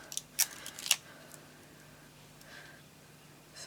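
Scissors snip paper craft pieces, two or three quick sharp cuts close up near the start, followed by quieter rustling.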